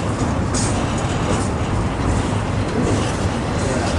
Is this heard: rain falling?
no